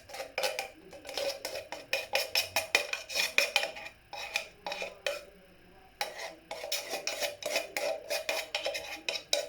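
A metal teaspoon scrapes and clinks against a dish while tiramisu ice cream is mixed in a home kitchen, giving quick, busy bursts of scraping with a few short pauses, close and fairly quiet, with no speech.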